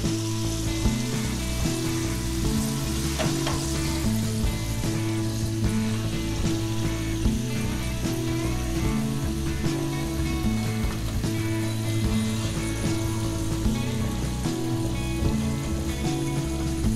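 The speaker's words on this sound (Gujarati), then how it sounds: "શક્કરિયાની ચિપ્સ મધ્યમ આંચ ઉપર તળવાનું" Sweet potato chips fry in oil over a medium flame, giving a continuous crackling sizzle like light rain, with a low steady hum underneath and no talking.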